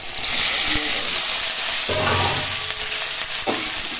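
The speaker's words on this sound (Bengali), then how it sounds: "তেলের ভিতর পাঁচফোড়ন দেব, শুকনো লঙ্কা দেব।" Five-spice seeds and dried chillies sizzle steadily in hot oil in a wok, a loud continuous frying hiss with stirring scrapes of the spatula partway through.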